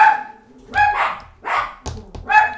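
A dog barks several times in short bursts with pauses between, fairly close and clear, with a few yips mixed in.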